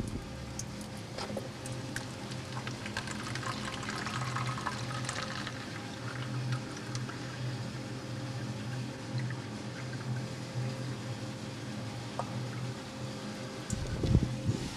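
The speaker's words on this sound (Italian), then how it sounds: "dal quale però si può ripescare l'acqua autentica del pozzo come facciamo in questo momento" Water drawn from a modern tap at David's Well in Bethlehem, a continuous gentle pouring and splashing of water with a soft background hum, lasting throughout, with a brief knock near the end.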